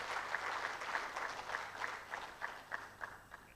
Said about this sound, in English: Please, can we clap for her, please?